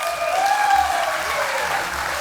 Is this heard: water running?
no